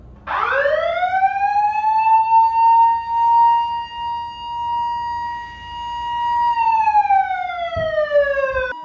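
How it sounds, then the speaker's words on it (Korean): A loud electronic alarm siren wails continuously in an office, a steady high tone that rises at the start and dips slightly near the end, with no voices over it. "이렇게 아주 시끄러운 경보음을 4시간마다 무려 10분씩 울리게 했다고 합니다"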